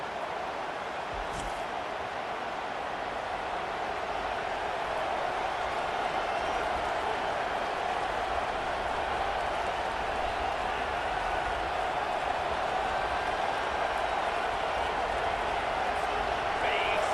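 A stadium crowd in an NCAA Football 25 game on PS5 Pro keeps up a steady, dense roar of cheering and noise, constant and unbroken from start to finish.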